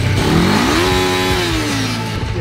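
A sport motorcycle ridden on snow revs up and holds a rising, droning pitch close by, then eases off, loud and continuous with no talking.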